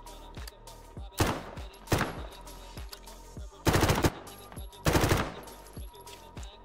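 An MP5 submachine gun fires in Garry's Mod, several loud bursts of rapid automatic gunfire, each a second or less, separated by short pauses with mechanical clicks and handling noises between.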